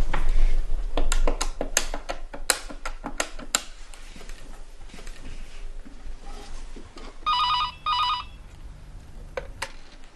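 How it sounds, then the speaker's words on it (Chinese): A telephone in a home ringing in short electronic bursts, preceded by a series of sharp clicks and taps as a number is dialed, fairly close and with no voices. "我这就给田毅打个电话，让他和我们一块儿去送兰子去。"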